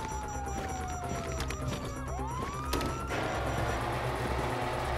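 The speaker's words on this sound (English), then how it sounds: "You hear that? Sirens!" A wailing siren sweeps down and back up in pitch over a dense, noisy background of engines and crashing.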